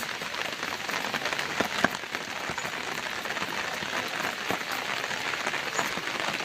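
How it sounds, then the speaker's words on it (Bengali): Steady rain pours down during a rural outing in Bengal, a dense continuous hiss with occasional louder drop hits, close and even throughout with no talking. "এই দেখতে দেখতে এক্ষুনি বৃষ্টি চলে আসলো"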